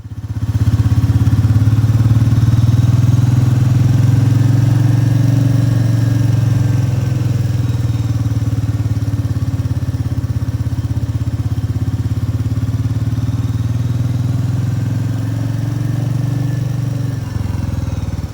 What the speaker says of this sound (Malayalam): ഓഫ് പോയിന്റിൽ എത്തി എൻജിൻ ബ്രേക്കിംഗ് തുടങ്ങുന്നതിന് തൊട്ടു മുമ്പ് ആക്സിലറേറ്റർ വീണ്ടും സ്മൂത്തായി കൂട്ടിക്കൊണ്ടുവരിക.